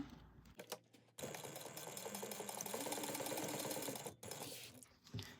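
A sewing machine stitches a box with an X across it, first in brief stutters, then running in a steady, close whir for about three seconds before a pause and a few more short bursts.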